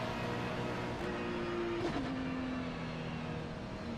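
A Ferrari 296 GT3 race car idles and revs in iRacing at Spa, its steady engine drone holding a low tone and then briefly rising and dipping, fairly quiet with no talk.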